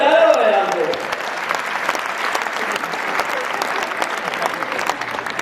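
At a Hindi comedy poetry show, a voice speaks briefly at the start and then the crowd carries on with steady, close applause, a thick even patter of many hands throughout.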